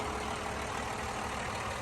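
A Caterpillar 140H motor grader's six-cylinder diesel engine idling, a steady low rumble with an even mechanical drone, heard close and constant without voices.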